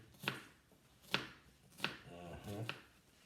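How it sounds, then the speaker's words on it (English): A knife chops onion on a cutting board in four sharp, evenly spaced strikes, close and clear, with a short soft voice between the last two. "Cut up a little more of this onion in here"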